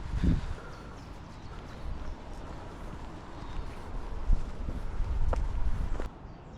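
Hooves of three horses clop at an unhurried walking pace on hard ground, fairly faint beneath steady outdoor wind and rustling.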